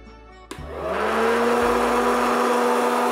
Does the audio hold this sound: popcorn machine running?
yes